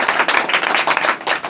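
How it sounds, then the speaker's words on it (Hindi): Children in a classroom clapping for a student, a brief burst of dense, fast applause from many hands, close and loud. "ताली बजाओ इस बिटिया के लिए"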